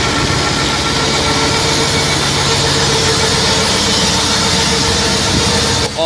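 A tractor-driven generator runs nearby with a loud, steady engine drone and constant vibration, unbroken apart from a brief dip near the end.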